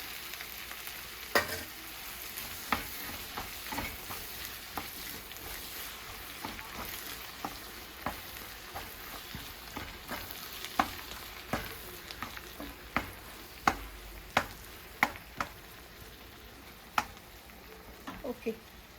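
Green chilli and tomato frying in a pan for Tirunelveli-style kothu parotta at home, a steady soft sizzle broken by repeated sharp clacks and scrapes of stirring, close and moderately quiet.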